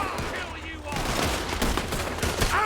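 Gunfire in Red Dead Redemption 2, a dense, close volley of overlapping rifle and pistol shots with echoing cracks in a rapid irregular stream; no talk.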